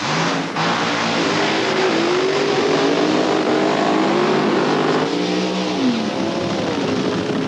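A nitromethane-fuelled funny car roars at a drag race, with a loud sustained engine howl that rises and shifts in pitch as it revs and accelerates.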